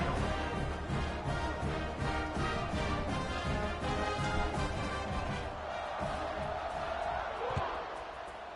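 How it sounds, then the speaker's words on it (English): A football stadium crowd at a Canadian amateur football league game makes a steady, broad roar, with a commentator talking over it throughout. "this crowd now ready to get behind them"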